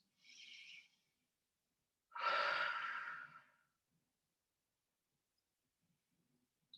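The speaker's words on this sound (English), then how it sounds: "So nice big breath in, fill the body up with air, breathing out, empty out all that air" Slow, deep breathing: a short, quiet breath in, a pause, then a longer, louder breath out that fades gradually, followed by near silence.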